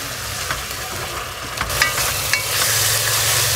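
Garlic, onion and corned tuna sauté in a pan, sizzling loudly and steadily up close while a utensil scrapes and taps now and then, with no voices.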